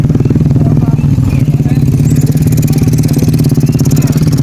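A motorcycle taxi (ojek) runs along a hiking trail near the Coban Talun waterfall, its mid-pitched engine throbbing steadily and close for several seconds, loud throughout.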